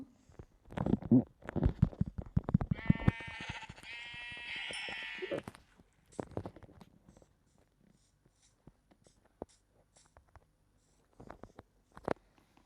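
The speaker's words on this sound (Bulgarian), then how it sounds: "ще да бия тази овца." A Minecraft sheep, being hit, lets out a long, wavering bleat after some soft thuds and patters, followed by scattered quiet taps and clicks.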